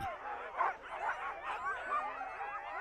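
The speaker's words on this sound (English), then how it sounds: "Huskies are bred to be sled dogs." Huskies bred as sled dogs bark and yip excitedly in an overlapping, continuous chorus, several dogs close by, with no one speaking.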